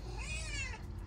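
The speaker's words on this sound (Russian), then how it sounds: "Это наша кошка, Фрамбуаз" A domestic cat gives a single drawn-out meow close by, rising and falling over about a second, with a light wind rumble in the background.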